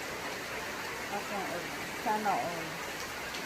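Heavy rain pours down as a steady, broad hiss throughout, while a person speaks over it.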